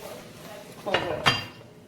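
A lid goes onto a pot of egusi soup as it cooks, with two quick metallic clinks close by and a voice heard faintly.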